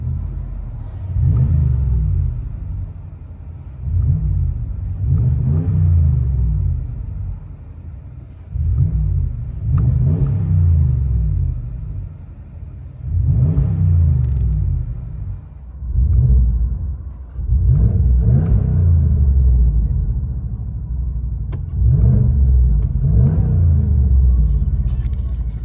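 Inside the cab of a RAM 1500 with a 5.7L HEMI V8 and aftermarket exhaust, the engine is revved repeatedly, each deep rumbling surge rising and falling in a steady series of blips.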